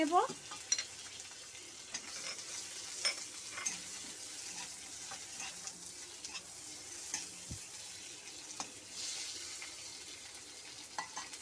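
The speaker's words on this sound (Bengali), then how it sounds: "এই টমেটোটা আমি এখন দিয়ে দিচ্ছি দিয়ে একটুখানি নেড়ে চেড়ে" Tomatoes stirred in a cooking pan, a faint steady sizzle under scattered soft scrapes and taps of a spoon against the pan, quiet and close, with no talk.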